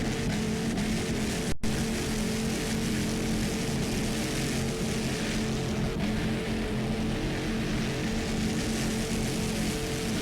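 Racing powerboat with two 500 horsepower inboard engines, a continuous broad engine roar heard at a distance, steady throughout with a slight swell in the latter half and no voices.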